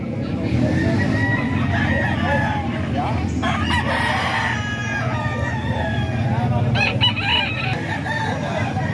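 Kuya Bob's rooster crows loudly and close, its long strained call rising and falling over steady background noise, with clucking fowl nearby.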